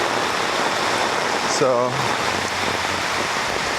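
Heavy storm rain from Storm Wutip pours steadily in Da Nang, Vietnam, a dense, constant hiss of water close by, with a brief spoken word partway through.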